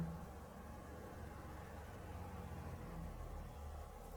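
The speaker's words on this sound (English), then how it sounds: "Car outside." A car passes outside the Jennie Wade House in Gettysburg, heard indoors as a very faint, low steady rumble with no talking.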